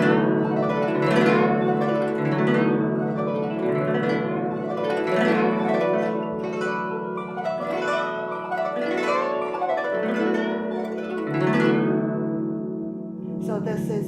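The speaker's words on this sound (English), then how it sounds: "combine the left hand bending the string and the right hand to do the glissando" Pedal harp playing a glissando while the left hand bends a string, giving rippling sweeps of plucked notes over wavering, watery pitches, close and moderately loud with no talking.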